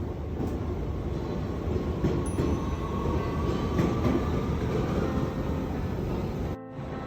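Train at a platform of the main railway station in the Netherlands, a steady loud rumble of rolling rail cars with faint wheel squeal, ending in a brief drop near the close.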